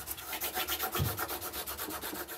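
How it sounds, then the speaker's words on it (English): Rhythmic rubbing strokes burnish down an edge of tape for a geode resin art project, a quick regular back-and-forth scrape repeating closely for a couple of seconds. "Same thing, gonna burnish it down to make sure it's tight."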